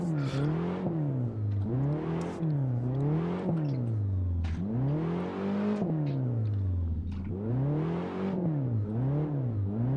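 BMW E30 drifting on a frozen ice lake in Assetto Corsa, its engine loudly revving up and down in repeated rising and falling sweeps, held high in fourth gear, with no voices.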